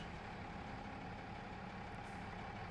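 Tractor engine idling steadily in Farming Simulator 22 as it is parked in a garage, a constant low rumble running alone at moderate level with no talk.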